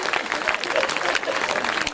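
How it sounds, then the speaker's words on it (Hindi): A crowd at a Kharihar Road poetry gathering applauds steadily for two seconds, a dense, fairly loud patter of clapping with a few voices mixed in. "ताली बजाओ, जोरदार बजवाना है"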